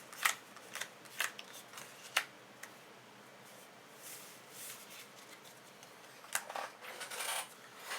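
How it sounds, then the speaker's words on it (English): Six new cards drawn in the board game Dark Gothic: soft, quiet card slides and snaps come in short bursts with pauses between, ending in a longer stretch of shuffling. "She draws 6 new cards."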